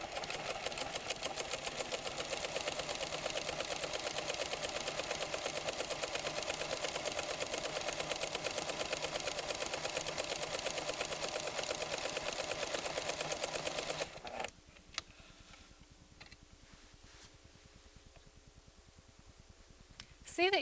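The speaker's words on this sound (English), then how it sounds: "I'll use program 1 with the left needle position to add a second row of stitching on this pocket." A PFAFF creative 7550 sewing machine runs steadily and fast, stitching a second row of top stitching along a pocket in a continuous whirring hum, then stops abruptly, leaving quieter handling sounds and a few soft clicks.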